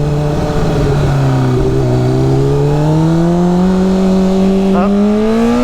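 A Honda CBR 600 motorcycle engine on a test ride, a loud, steady drone that slowly rises in pitch as the bike accelerates, running continuously and close up.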